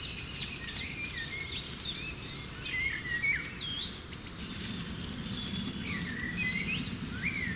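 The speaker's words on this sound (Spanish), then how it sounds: "los primeros insectos del día se mezclan con el canto de los pájaros que resuena en la estepa" Birds sing at dawn on the steppe, many thin chirps and whistled phrases overlapping at a moderate distance, over a low steady bed of early insect buzzing and ambient hiss.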